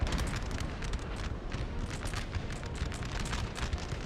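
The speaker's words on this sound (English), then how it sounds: "And these guys here are howitzers." Massed howitzers and cannons fire across a Napoleon Total War battlefield, a dense, continuous rumbling barrage of overlapping booms with no pauses and no voices.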